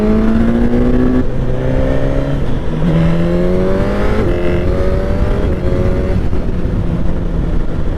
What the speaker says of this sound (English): As I was going up the quick shifter, it was releasing the throttle, and it was like pausing and then surging